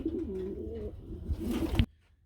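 Gola pigeons coo in low, warbling rolls close by, overlapping with some rustling, then the sound cuts off abruptly near the end.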